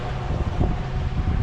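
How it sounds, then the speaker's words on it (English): Strong wind rushes across the Tennessee River near a fishing spot, a steady low buffeting roar filling the brief moment without any voices. "Too windy to fish."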